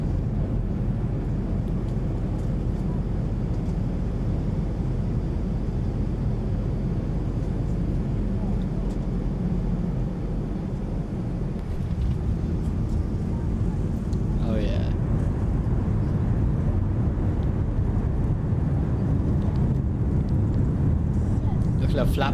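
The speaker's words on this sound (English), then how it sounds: "The flaps rattling like that, so nice. They actually rattle quite a lot landing." A Boeing 737 in the Zibo flight simulator on landing, with flaps rattling inside a steady, loud broadband roar of engine and airflow noise that runs throughout without letup.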